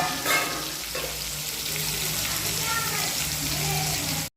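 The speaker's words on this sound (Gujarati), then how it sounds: "પાવભાજી વઘારવાની છે અને જો તેલ આવી ગયું છે ને એમાં ડુંગળી નાખી છે." Chopped onions sizzle and crackle steadily in hot oil for pav bhaji, a continuous close frying hiss with a few scraping stirs at the start.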